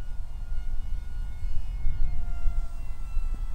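An XK A290 F16 radio-controlled jet plane flying at full throttle, giving a steady whining, rushing engine drone with a faint rising tone through it.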